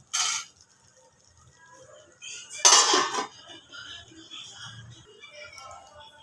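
A lid set over a pot of cooking okra lands with a bright metallic clatter, followed by a second louder clink a couple of seconds later, then quiet kitchen rattles.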